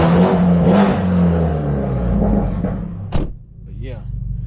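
Straight-piped, catless BMW 530 engine, loud and close, rumbling and revving under a person talking, then dropping off sharply as a door-like thud and a whirring sound follow.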